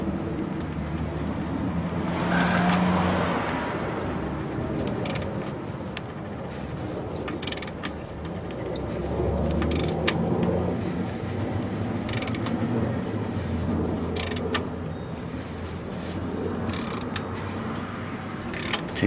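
Ratcheting and scraping of a 24mm socket wrench loosening a stiff fitting, a faint, uneven series of clicks, creaks and metallic scrapes over low room noise, with no talk.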